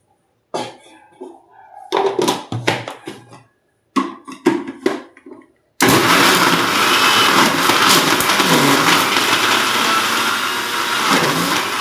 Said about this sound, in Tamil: அதை நல்லா மிக்சியில் அரைச்சி